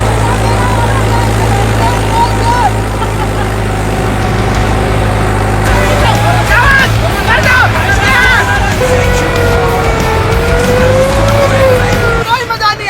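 A tractor engine revving hard with a loud, continuous drone, overlaid by squealing tyres and skidding noises, while people talk and shout excitedly throughout.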